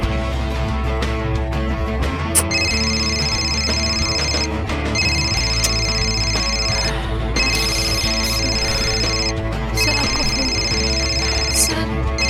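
A phone rings in repeated electronic bursts over loud background music, the ring pattern recurring every few seconds.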